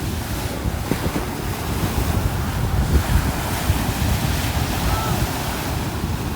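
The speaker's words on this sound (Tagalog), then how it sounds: "So napakalakas na ang alon." Strong high-tide waves crash steadily onto the Manila Bay shore, a dense continuous roar of surf mixed with heavy wind buffeting the microphone, with no voices.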